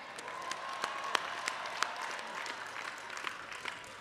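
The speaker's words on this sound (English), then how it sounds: "we can give a round of applause much greater than that" A crowd at a Tennessee State University spring commencement claps steadily, a dense and sustained wash of applause heard from within a large audience, with scattered sharper claps standing out.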